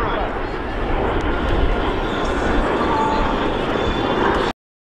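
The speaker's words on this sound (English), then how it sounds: "These beautifully restored aircraft, the L-39 and the T-33 out" Restored L-39 and T-33 jets pass in formation at an air show, a broad steady roar lasting the whole stretch under an announcer's commentary, then cutting off abruptly.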